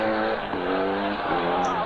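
An early Mitsubishi Lancer Evo Group A rally car on tarmac, its engine wailing loud and sustained with shifting pitch, overlapped by someone speaking.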